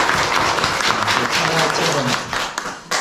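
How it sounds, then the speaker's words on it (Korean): A church congregation in a Korean worship service applauds, a thick wash of clapping filling the room while someone speaks over it. "우리 하나님 앞에 영광의 박수를 돌리겠습니다"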